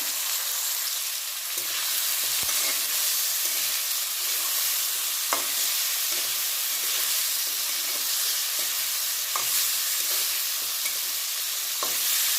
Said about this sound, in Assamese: এনেদৰে 5 বা 7 মিনিট সময় তেলতে আলুখিনি ভাজি ল'ম।